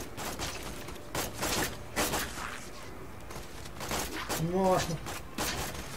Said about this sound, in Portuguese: Alguém está atirando em mim!